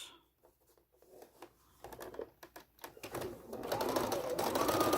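Quilt seams pass under a sewing machine: scattered light clicks and taps at first, then the motor runs up into a continuous, building whir that carries to the end.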